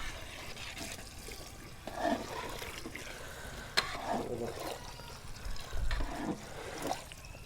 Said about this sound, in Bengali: পরিমাণ মতো পানি দিয়ে দিচ্ছি।